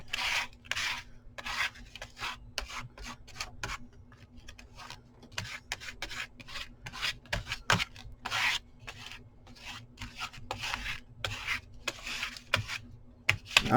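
A small scraper spreads matte medium across a surface in repeated soft, close rubbing and scraping strokes with irregular rhythm, quiet with no talking.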